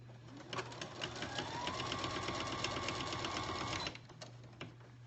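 An electric sewing machine stitches a pillow insert, a steady close whirring run of a few seconds with a mechanical rhythm, then it stops with faint handling clicks around it and no talking.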